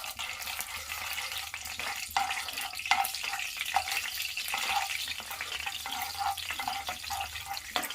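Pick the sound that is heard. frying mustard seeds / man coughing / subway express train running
frying mustard seeds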